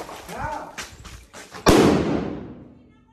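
A firecracker going off during Diwali: after a few seconds of talk and chatter, one sharp loud bang bursts close by and trails into a long fading echo.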